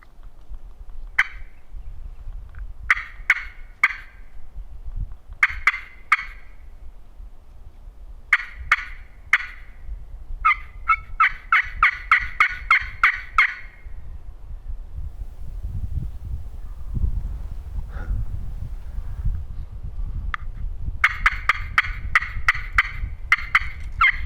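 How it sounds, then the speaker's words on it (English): Answering a banshee slate call on public land in Iowa, a wild turkey gobbles and clucks in repeated bursts, fairly close and loud over a low rumbling outdoor background, with no voices. "He was gobbling on his own."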